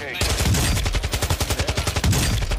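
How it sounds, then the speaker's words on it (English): Call of Duty DMZ gunfire on the Al Mazrah map: rapid, close automatic bursts rattle loudly in a fast, even rhythm, nearly continuous from start to finish. "I hear gunshots close."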